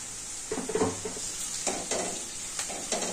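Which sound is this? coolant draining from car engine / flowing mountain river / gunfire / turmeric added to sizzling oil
turmeric added to sizzling oil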